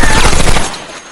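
Rapid gunfire bursts from a war drama episode about the Pacific campaign, loud and dense for a moment before dropping away into quieter background.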